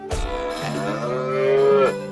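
A cow in South Park: The Stick of Truth lets out one long, loud, drawn-out moo that rises slightly toward the end, close and clear.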